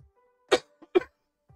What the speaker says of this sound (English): Don't cough on the cards, infect the cards.